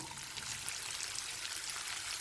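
Water is drained off boiled jackfruit seeds through a strainer, giving a steady, soft hiss of pouring and splashing close by with no speech.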